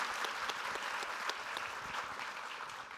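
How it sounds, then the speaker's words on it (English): Steady audience applause for conference panelists at a leadership event, dense continuous clapping filling the room at moderate level without a break. "let's give them a round of applause"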